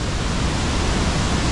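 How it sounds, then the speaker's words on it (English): Ban Gioc waterfall on the remote Cao Bằng loop near the Chinese border, a loud steady broadband roar of falling water that holds constant and close throughout, with no voices. "what an amazing waterfall"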